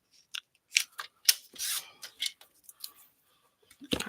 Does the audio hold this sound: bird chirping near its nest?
no